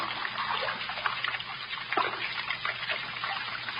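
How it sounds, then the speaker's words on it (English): Running water trickles and splashes close by in a radio drama setting, a soft, continuous burble with small irregular splashes and no voices. "Running water."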